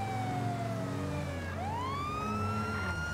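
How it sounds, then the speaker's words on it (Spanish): A wailing police siren in a police video game sweeps up and down in pitch, loud and steady throughout, with a low engine rumble underneath. "la sirena no he podido encontrar una nueva"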